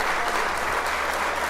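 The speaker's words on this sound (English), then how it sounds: "So please, we gotta get more round of applause, because this is good dialogue." A brief, full burst of audience applause at a casual college talk, steady and fairly loud throughout with no voices on top.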